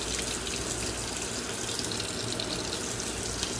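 Hot water runs steadily from a tap into a sink, a continuous close splashing hiss with no talk.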